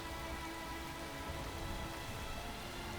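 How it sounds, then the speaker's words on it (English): Steady rain pours in the survival game Space Engineers, a dense, even hiss of falling drops with a faint low rumble of thunder underneath, moderately quiet and unbroken throughout. "And I hear lightning."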